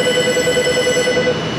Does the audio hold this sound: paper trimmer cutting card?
no